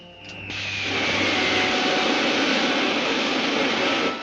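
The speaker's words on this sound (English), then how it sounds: "Safety belts fastened. Fire pilot jets." Rocket ship pilot jets firing in a 1952 science-fiction film serial: a brief descending whine gives way to a loud, sustained roaring jet blast that holds steady to the end.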